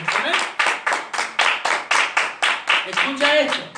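A church congregation claps in rhythm, steady near-regular beats about twice per second, dense and loud throughout, with voices mixed in underneath.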